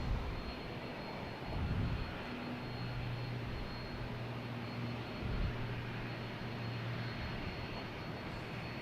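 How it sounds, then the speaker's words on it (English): A British Airways Airbus A380 on approach to land at Boston Logan, passing over a cruise ship as a faint, distant, steady jet rumble with a low drone that swells slightly twice. "That should be British Airways A380 coming in."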